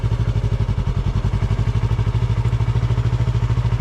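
Motorcycle engine running at a steady low rhythmic chug, close and fairly loud, holding an even beat throughout without a clear rise in revs.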